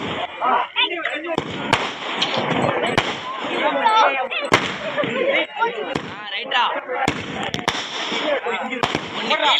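Sharp firecracker bangs burst repeatedly at irregular intervals over a steady crackle during a Mattu Pongal festival, while people talk and call out nearby.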